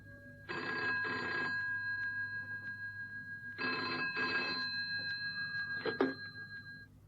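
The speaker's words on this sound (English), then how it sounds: "the phone rang on the direct line" A telephone on a direct line rings in two long double bursts separated by a pause, followed by a brief clatter as the receiver is picked up, with steady room hum beneath.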